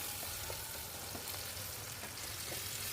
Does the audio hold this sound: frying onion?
yes